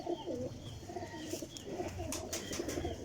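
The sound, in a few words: golden pigeon cooing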